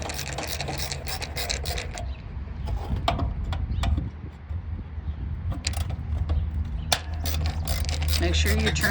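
A screwdriver loosening the headlight trim ring screws on a classic MOPAR car, close ratcheting and clicking mechanical sounds over a steady rumbling background, with a brief pause midway.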